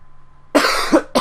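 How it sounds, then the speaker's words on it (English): A sick man gives two sharp coughs about half a second apart, close to the microphone, after a short quiet lead-in with a faint low hum. "if I do cough, I do apologize"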